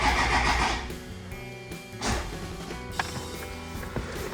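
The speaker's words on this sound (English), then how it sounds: "So I need to figure out why sometimes when you try to start it, it gets a click." Car starter being tried, with short mechanical clicks and brief engine-cranking bursts at irregular intervals, fairly close and without talk.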